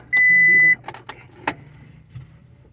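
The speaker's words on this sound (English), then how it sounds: "I gotta put this window up." A parked car's power window rolls up with a steady motor whine lasting about half a second, followed by a few clicks and light knocks inside the car.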